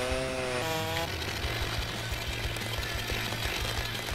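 Chainsaw idling and revving steadily while felling trees in a forestry simulation game, a loud continuous buzzing motor drone with a brief higher whine at the start.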